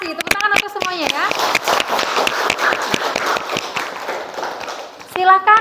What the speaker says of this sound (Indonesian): Tepuk tangan untuk semuanya ya.